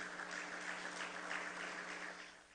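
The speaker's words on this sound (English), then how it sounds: "This Trinidad and Tobago is a platform of integrity that deserves a round of applause." Applause from the crowd at a PNM political public meeting in Trinidad and Tobago, a steady, fairly faint wash of clapping that holds for a couple of seconds and then fades.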